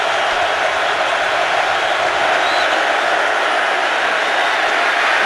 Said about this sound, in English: a noisy Baltimore crowd